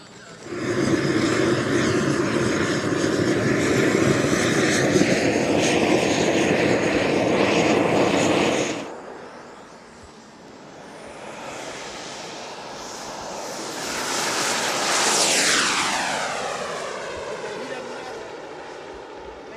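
A CJ jet engine roars loudly and steadily as it lands, then fades before a second aircraft rushes past with a falling whine as it goes by.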